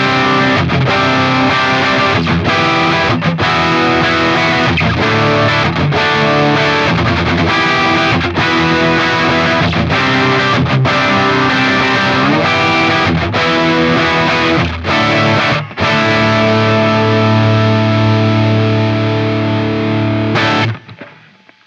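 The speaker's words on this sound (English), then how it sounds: "we're going to go to the bridge pickup and do kind of more of like an overdriven thing" An overdriven electric guitar on the bridge pickup, run through a Line 6 HX Stomp, plays loud, dense distorted chords and riffs for about twenty seconds, with short pauses and a final ringing chord.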